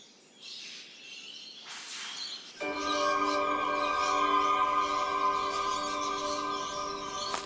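Calls of rainbow lorikeets in Australian jungle: bright, layered high chirps and whistles, with a dense, steady chorus of chattering calls taking over partway through and continuing, fairly close and loud.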